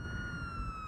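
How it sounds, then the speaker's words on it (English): A police siren in a video game wails in a steady electronic tone, loud and close, holding a continuous pitch over a low rumbling background. "turn on the siren, and toggle through the different types of sirens"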